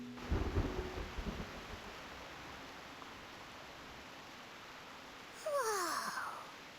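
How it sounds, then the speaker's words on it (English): Heavy rain outside, a steady dense hiss throughout, with a low rumble at the start and a brief swooping sound near the end. "What a heavy rain outside."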